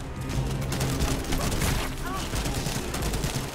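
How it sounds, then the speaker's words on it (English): Rapid gunfire from the video game The First Descendant, a dense fusillade of shots rattling continuously at close range under game sounds and steady talk. "I'm shooting the guys on top."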